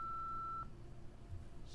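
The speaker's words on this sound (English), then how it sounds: "please leave a message after the beep." A voicemail beep from the Nancy Drew: Midnight in Salem video game, one steady electronic tone held for about half a second, then quiet room noise.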